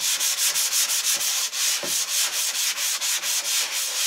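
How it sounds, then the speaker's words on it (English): Rhythmic back-and-forth strokes of sandpaper on chalk-painted wood, a bright, close scratchy rasp repeating about four times a second. "I'm just sanding that down so it's a lot smoother"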